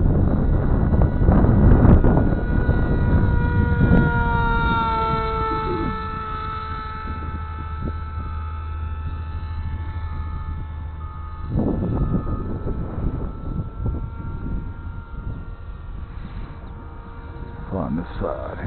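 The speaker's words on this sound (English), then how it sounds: "The wind's pretty stout right now. It's blowing this little thing all over the place." Stout wind buffets an outdoor microphone during a small RC Bixler model plane flight, a rough, steady rumbling roar under a whining motor tone, heaviest at the start and gusting again later, with someone talking at times.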